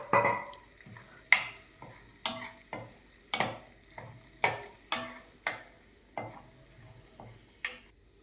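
Green beans being stirred in a pan with turmeric, a spoon scraping the metal in about a dozen distinct strokes at a steady rhythm, close and clear over a faint sizzle.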